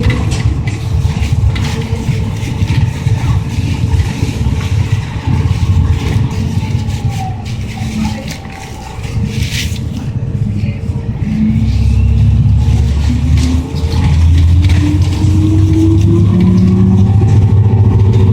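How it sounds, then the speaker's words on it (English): A city bus engine runs in Manhattan, New York, heard from inside the bus as a steady low rumble that swells louder and rises in pitch during the last few seconds as it accelerates. "I'm in the bus."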